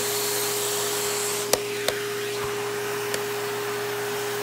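A Hoover Windtunnel Plus S3639 canister vacuum runs steadily with a bare floor tool fitted, a loud constant motor whine and airflow hiss with a few small clicks of the tool, no talk.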